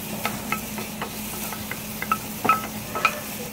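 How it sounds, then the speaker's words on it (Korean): Onion and green onion sautéing in butter in a pan, a soft sizzle under intermittent scraping and stirring taps from a utensil, fairly quiet and close with no talk. "반드시 양파, 대파를 먼저 볶아주세요."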